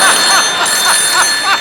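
A telephone rings in short repeated chirping bursts, about five trills in quick succession, fairly loud and close with no talk over it.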